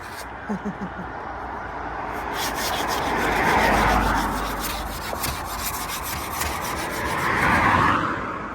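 Car windshield glass is scraped clean on a winter morning: repeated close rasping strokes that swell and fade in waves, with faint voices in the background.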